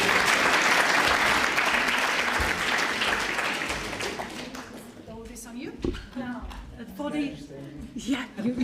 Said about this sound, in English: A round of applause to Mario.